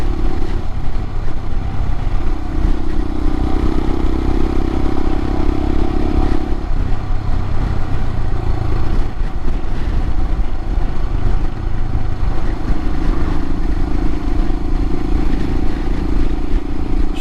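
A 2022 Royal Enfield Himalayan motorcycle fitted with a Hitchcocks carburetor conversion climbs hills, its single-cylinder engine giving a steady, loud thrum with shifts in pitch, under heavy wind rush and with no talking.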